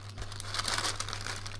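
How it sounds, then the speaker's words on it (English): A sheet of baking paper crinkles and rustles close by in a short burst over a steady low electrical hum, with no talking. "with another sheet of baking paper, place on top."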